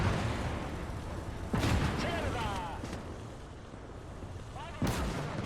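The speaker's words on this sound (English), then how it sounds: "Field guns coming up." Field guns firing in the Call to Arms - Gates of Hell Winter War battle, heavy booms landing amid a continuous roar of combat, with a second sharp blast near the end and voices briefly underneath.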